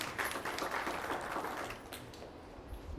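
A crowd at a spiritual birthday and Raksha Bandhan celebration breaks into applause, a soft, dense wash of clapping that is strongest at first, then thins and fades toward the end.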